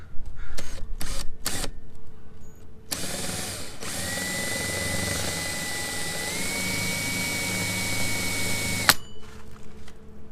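A power drill whirs continuously for several seconds while boring a 2.5-inch hole through a boat hull, preceded and followed by clicks and handling knocks up close.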